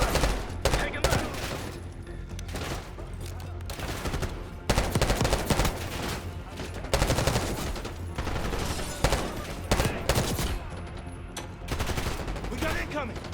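Heavy gunfire in the Call of Duty Black Ops 6 video game, with dense bursts of automatic and rapid shots crackling almost continuously at loud, close range, and soldiers' shouts mixed in under the firing.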